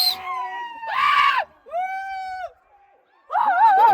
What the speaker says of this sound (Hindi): भाई सब चिल्ला रहे, वहां से भी चिल्ला रहे लोग।